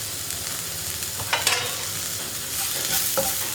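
Garam masala and chopped tomato fry in a pan for potato masala, giving a steady close sizzle with a few brief stirring scrapes and clinks of a spoon.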